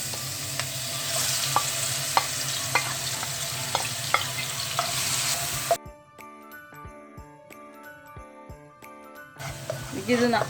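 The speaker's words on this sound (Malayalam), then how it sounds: "ഇനി നമുക്ക് ഈ ചതച്ച് വെച്ചത് ഈ എണ്ണയിലോട്ട് തന്നെ ഇത് നമുക്ക് വഴറ്റിയെടുക്കാം." A crushed spice mixture sautéing in oil for Kerala-style chicken kondattam, a dense close sizzle with stirring scrapes, then the frying drops away as a few bright chiming tones ring out before the sizzle returns.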